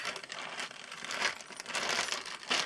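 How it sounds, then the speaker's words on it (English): Packets of embroidery floss being gathered up and put away, a continuous close crinkling and rustling of plastic packaging with small clicks and brighter crackles, moderately loud throughout. "Sorry for the rustling, but it takes forever to pick this up if I don't put it all away"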